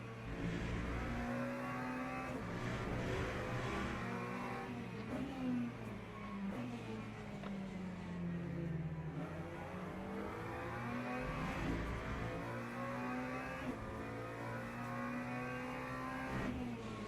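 Hypercars race at Qatar in the video game Le Mans Ultimate, with engines constantly revving, shifting and whining in a steady, fairly quiet wash of several cars.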